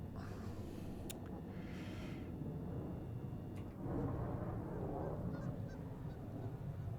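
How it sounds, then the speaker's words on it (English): Geese honking in a video game railway scene, several short calls that are fairly distant and faint over a steady background rumble. "I hear geese."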